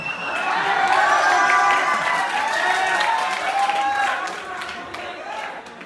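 Audience at a Hindi comic poetry recital (hasya kavi sammelan) breaking into applause with cheering and crowd noise, clapping swelling then gradually fading, while a performer talks over it.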